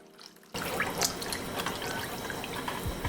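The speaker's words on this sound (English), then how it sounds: "We're gonna add our seared beef to that and then pour that braising liquid right on top." Braising liquid pours over seared beef inside an Instant Pot, a steady wet splashing and gurgle that starts abruptly and continues at moderate loudness.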